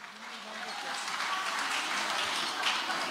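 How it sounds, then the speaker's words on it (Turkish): Audience applause greets a businesswoman's award at a ceremony in Elazığ, Türkiye, a steady wash of clapping that swells slightly and holds at moderate loudness with some voices mixed in. "Alkışlarınızla Tülay Fırat"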